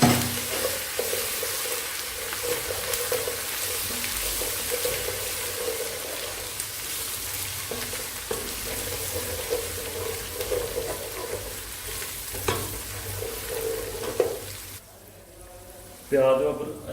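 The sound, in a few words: onion and ginger garlic paste frying in pan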